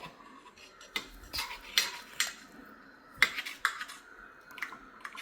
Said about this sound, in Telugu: దీన్ని ఇలా సిమ్లో పెట్టుకుని కలుపుతూ ఉండాలన్నమాట.